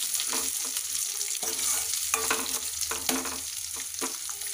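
Onions, curry leaves and green chillies fry in a pan for a spinach curry, giving a steady sizzle with periodic scraping strokes of a spoon stirring, close by and with no talk.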